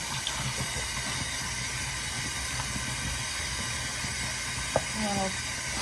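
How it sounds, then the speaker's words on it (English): Tap water runs steadily over baking utensils being washed in a sink, a constant hissing rush with a brief clink of dishes near the end. "I usually will put everything in here and just wash it up real quick"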